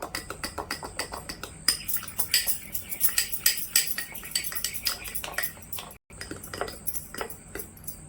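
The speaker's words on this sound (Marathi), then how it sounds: "आता यामध्ये घालूया कोको पावडर आणि हे व्यवस्थित मिक्स करून घेऊया" A spoon clinks and scrapes rapidly against a bowl while cocoa powder is stirred into a milk-based ice cream base, a busy rhythmic metallic clatter with a brief pause near the end.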